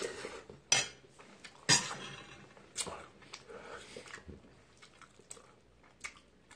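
Spoonfuls of rice soaked in leftover ramen broth eaten from a bowl, with cutlery clinking sharply against the dish a few times amid soft chewing and slurping, close and fairly quiet.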